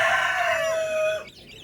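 A Darag chicken on a chicken farm gives a short, loud crow-like call that trails off, followed by faint clucking, all heard close.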